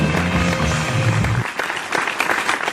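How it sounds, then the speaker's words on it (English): Automated clapping machine applause for a small podcast audience opens as a steady, dense clatter of claps, thins after about a second and a half, then continues as scattered lighter claps. "thank you, all four of you clapping on the automated clapping machine"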